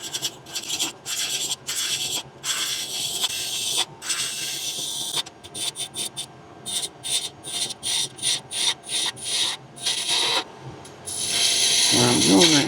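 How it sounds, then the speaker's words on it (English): A roughing gouge cuts a wooden finial spinning on a lathe, giving a loud, close rasping chatter broken into bursts as the tool is pushed in and pulled away, ending with a steadier grinding hum. "Let's get my rough and gouge out here and clean this up."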